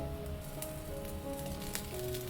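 Set dosa cooking in oil on a covered pan over a medium flame, giving a steady soft sizzle with faint crackles running throughout.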